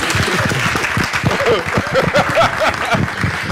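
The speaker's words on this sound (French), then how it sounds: "Mais applaudissez quand même pour ça," An audience clapping steadily for a few seconds during a national television broadcast in Burkina Faso, with a voice rising briefly above the applause.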